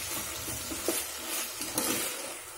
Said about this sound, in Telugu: ఇప్పుడు ఆనియన్స్ వేయుతున్నాయి